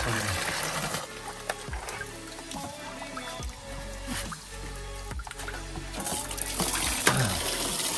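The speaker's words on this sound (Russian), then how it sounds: "А это что, горный ключ да?" Mountain spring water trickling in Crimea in December, with a wet splashing flow and repeated drips, lightly bubbling and close, and faint voices now and then.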